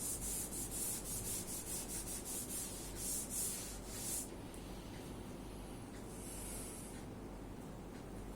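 An eraser rubs writing off a classroom board in brisk, repeated back-and-forth strokes, a faint, steady scratchy hiss that pulses rhythmically and then thins into a smoother swipe, with no talking.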